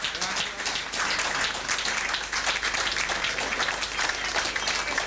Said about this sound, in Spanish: Este aplauso es para los que vienen por primera vez.